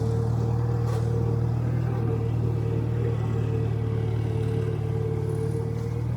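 An IH McCormick Farmall 350 tractor engine idles steadily with a deep, even rumble and a constant low hum, heard close up from the seat with no speech.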